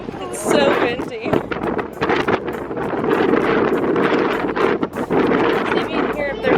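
Strong wind at Huntington Beach buffets the microphone with loud, continuous gusting roar and rumbling bursts, while a person talks through the noise.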